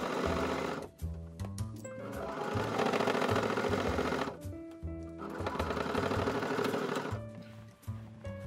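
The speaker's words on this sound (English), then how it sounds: "I'm sewing zigzag to stop fraying." A sewing machine runs a zigzag stitch along fabric to stop fraying on a cutlery wrap, whirring in loud bursts with a brief pause around the middle, close and alone.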